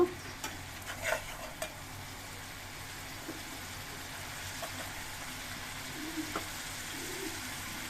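Radish and chicken feet stir-frying in masala in a pan, with a steady low sizzle and occasional scraping stirs, close by and without talk.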